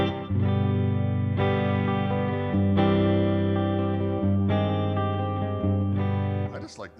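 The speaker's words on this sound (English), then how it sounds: "this guitar sounds great with distortion too" Electric guitar with heavy distortion rings out in sustained, loud chords with a few changes, thick harmonics throughout, ending with a brief squeal of feedback.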